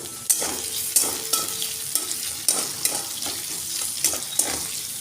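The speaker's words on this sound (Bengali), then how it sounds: "আমি এটা নেড়ে চেড়ে একটু ভেজে নেব।" Capsicum, chopped chili and tomato stir-fried in a pan over a low gas flame, a steady soft sizzle broken by repeated scraping stirs at a roughly even rhythm, close and alone.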